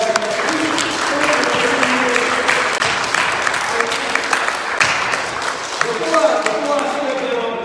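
A room full of people at a church gathering applauding loudly and steadily for several seconds, with scattered cheers mixed into the clapping.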